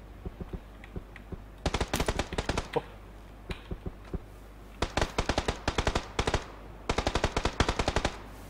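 Gunfire in the PUBG battle royale game: repeated bursts of rapid automatic shots, tight rhythmic volleys separated by short pauses with a few scattered single shots, loud and sharp throughout with no talking.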